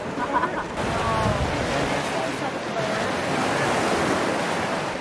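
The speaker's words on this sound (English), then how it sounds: "We're gonna wait for the wind to die down a second." Wind gusting across Point Beach, a loud, continuous broadband rush like surf that swells after the first second and stays steady.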